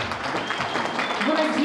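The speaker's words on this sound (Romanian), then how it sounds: "Vă rog frumos să o încurajăm cu multe aplauze." Audience applause at a Christmas fair stage show outside a monastery, a steady dense wash of clapping lasting under two seconds with a voice briefly audible over it.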